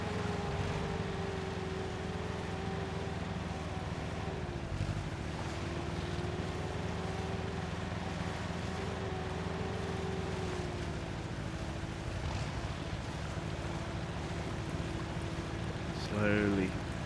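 A truck in the Mudrunner video game churns slowly through a wide stretch of water, producing a steady low engine drone with watery wash that stays even and continuous throughout.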